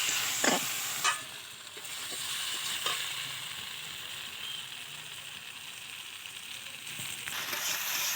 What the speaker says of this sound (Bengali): দিয়ে একসঙ্গে ফের কষিয়ে নিচ্ছি।